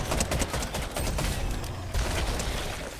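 Sustained gunfire aimed at a big bug in the video game Fortnite, a loud, fast string of shots running nearly the whole time with a brief lull midway.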